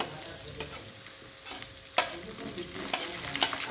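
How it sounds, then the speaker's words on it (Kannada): Crushed garlic, green chillies and curry leaves fry in hot oil, giving a soft continuous sizzle broken by a few sharp spluttering pops and a stirring scrape. "ಸ್ವಲ್ಪ ಫ್ರೈ ಆಗಬೇಕು, ಸಿಡಿಯುತ್ತೆ."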